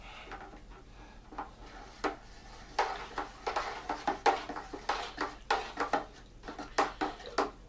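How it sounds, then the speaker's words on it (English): Rapid, uneven scraping and knocking strokes as water and wine-kit concentrate are stirred hard in a plastic fermentation pail, growing busier and more rhythmic over several seconds. "And now we need to vigorously stir."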